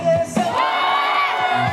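Baseball fans cheering for the NC Dinos in Daejeon raise a brief, loud group shout following a short vocal cue, the roar swelling and holding for about a second before fading.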